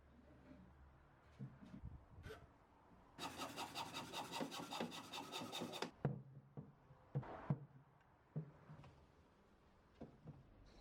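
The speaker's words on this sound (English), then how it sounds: "I ended up using a saw and just scraping out the sides and shaving off a bit more of the MDF" A hand saw scrapes and shaves down the edges of an MDF panel for a timber trunk, starting with a few scattered scrapes, then a dense burst of rapid rasping strokes, then more sporadic scrapes, all fairly faint.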